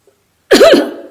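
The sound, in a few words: man coughing repeatedly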